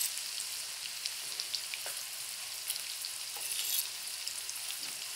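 Small fish pieces for a fish pickle fry in hot oil, giving a steady bright sizzle with faint crackles and pops. It carries on close and continuous, with no talking.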